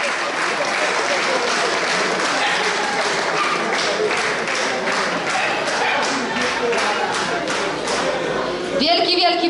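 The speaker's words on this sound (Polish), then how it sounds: "Wielki, wielki brawa jeszcze raz." Sustained crowd applause for half-marathon runners at a mountain race award ceremony in Poland, with dense steady clapping throughout and a brief louder burst near the end.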